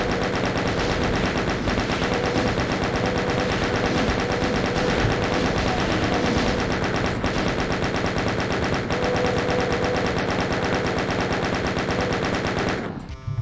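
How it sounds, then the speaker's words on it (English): A chain gun in Doom II fires at imps in long, unbroken bursts, its rapid metallic shots loud and relentless for many seconds before cutting off abruptly. "I'll use my chain gun here"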